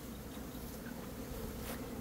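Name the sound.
honeybees buzzing around the apiary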